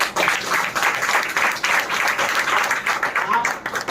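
Audience applause in a hall in Patna, a dense steady patter of many hands clapping for about four seconds, with voices mixed in underneath.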